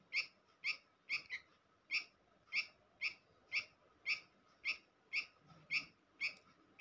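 A squirrel chirping in a steady run of about a dozen sharp, evenly spaced squeaky calls, close and distinct over a quiet background.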